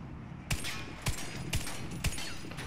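An M249 Para Gold machine gun in Warface fires four spaced single shots in a regular rhythm, each a sharp close crack with a short tail, over a continuous low background.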